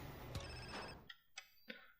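A phone rings in Grand Theft Auto: San Andreas, giving three short, bright, close electronic trills in quick succession after a burst of louder game noise.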